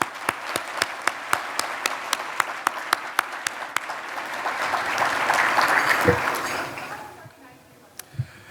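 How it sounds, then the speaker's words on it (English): At Portsmouth's 2022 State of the City event, a few sharp, evenly spaced claps grow into a full round of audience applause that swells, then thins out to scattered final claps. "Would you please join me in giving all of our sponsors a big round of applause?"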